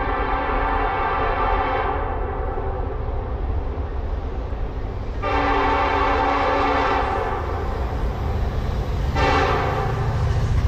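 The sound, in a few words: CSX freight train horn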